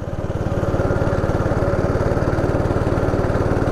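A 160 cc go-kart engine on a rental track runs close and loud, a steady rapid buzzing putter with a slightly rising drone, no talking.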